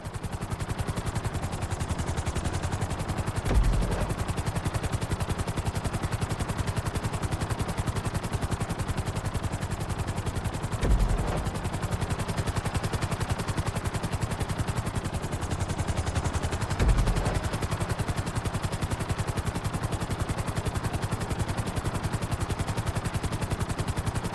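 A helicopter in the video game GTA V flight school makes a steady, loud rotor thrum that fills the whole stretch without a break, with a few dull thumps standing out at intervals.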